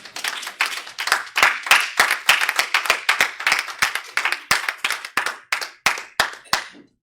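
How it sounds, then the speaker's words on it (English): A church congregation clapping hands in unison, a fast, steady run of sharp, close claps that loosens slightly toward the end and then stops, with no talking. "Clap your hand for Jesus Christ."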